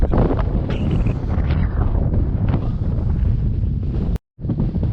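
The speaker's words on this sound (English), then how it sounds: "It is so windy up here" Strong, steady wind buffeting the microphone on an exposed hillside trail, with a loud rumbling roar throughout, briefly cutting out near the end.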